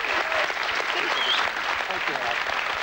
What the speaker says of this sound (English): Give Libby Roberts a round of applause.